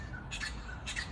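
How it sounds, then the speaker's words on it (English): Two short, harsh squawking calls from a wattlebird, a honeyeater, repeated about half a second apart, fairly close and clear over a faint outdoor background. "some sort of Honeyeater wattle bird."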